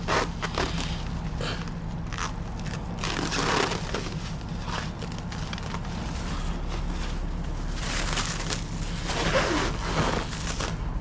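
Plastic wrap handled by a beverage delivery driver, crinkling and crackling in uneven bursts up close, with louder rustling flurries near the start and end.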